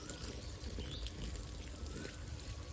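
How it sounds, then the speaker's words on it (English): Water is poured steadily onto cocopeat in a seedling grow tray for okra (lady finger) sowing, a continuous close trickling splash that lasts throughout with no talk. "We must wet this cocopeat well"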